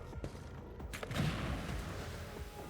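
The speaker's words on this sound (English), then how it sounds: "So many grenades being thrown." Grenades exploding in combat in Warhammer 40K Rogue Trader, a dense stretch of booming blasts and rumbling thuds packed close together, with a louder burst near the middle and a steady din continuing to the end.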